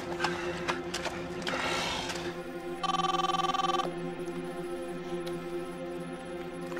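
A telephone bell rings once in a short burst over a steady background with clopping and rustling sounds.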